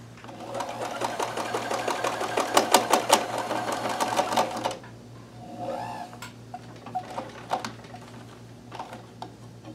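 A Kenmore 158.1914 sewing machine runs a chain stitch with fast, loud mechanical clatter for several seconds, then stops. Scattered faint clicks and handling noises follow.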